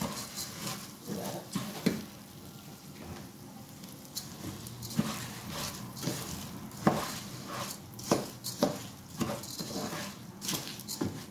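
Basmati rice is fried in ghee in a pot for pulao while a spoon stirs it. Irregular scrapes and clinks of the spoon against the pot rise over a soft frying patter.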